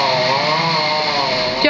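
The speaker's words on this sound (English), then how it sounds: "the sound of chainsaws filled the air, clearing another big tree away from the Forest Park apartment building" Chainsaw clearing a large tree felled by a wind storm near an apartment building, a steady high-pitched buzzing engine whine that runs loud and unbroken across the short clip.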